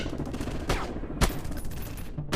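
Gunfire in a PUBG-style first-person shooter game, with a constant rattle of rapid shots and a couple of louder, sharper blasts standing out.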